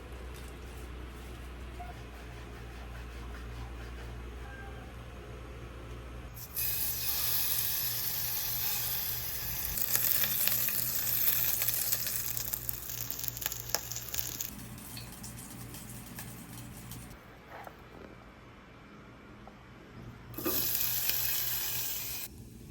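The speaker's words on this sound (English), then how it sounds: "I will be using this to flavor the pan and give oil so I can saute the vegetables." Vegetables are sautéed in rendered pork fat in a pan, with a quiet low hum giving way to bursts of close, bright sizzling that swell and fade in waves over about twenty seconds.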